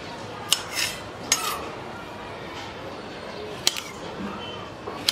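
A knife chopping okra into pieces, several sharp separate clicks of the blade meeting the board at an uneven pace, close by against a quiet kitchen background.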